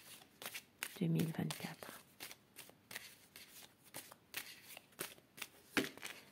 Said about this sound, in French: Et je commence mon tirage avec le petit Lenormand pour voir les prédictions de la journée.